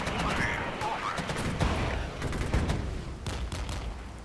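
Battle gunfire in the Regiments war strategy game: rapid bursts of distant small-arms and machine-gun fire with occasional heavier thuds, continuous and dense, under a rumbling background.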